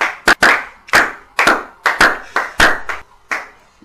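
Worshippers at a church service clap in a strong, loud rhythmic pattern, sharp close claps grouped in repeated bursts with brief ringing between, no voices over them.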